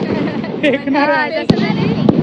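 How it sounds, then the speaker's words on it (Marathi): A rope bomb firecracker bursts in someone's hand with one sharp, loud crack, followed by a smaller pop, while people talk excitedly over it. "हा हातामध्येच रस्सी बॉम्ब फोडणार आहे"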